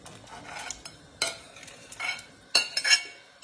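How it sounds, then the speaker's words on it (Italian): Boiled, chopped endive is stirred into broth in a pot, with irregular scraping and clinking of a utensil against the pot coming in short bursts, close by and with no talking. "adesso vado ad inserire l'indivia lessa e sminuzzata."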